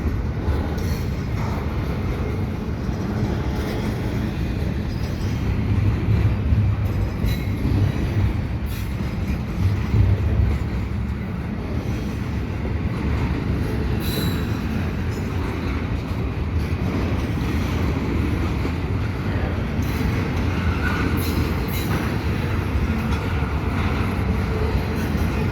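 CPKC intermodal freight train 119 leaving Dorval at Marshall Avenue, a loud continuous rumble and clatter of rail cars rolling past, with faint wheel squeal over the steady roar and no talk.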